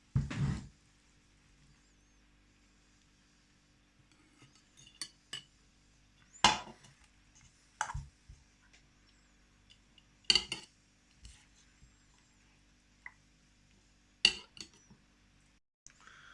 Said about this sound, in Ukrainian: Капусту я пересипав у банку, втрамбував її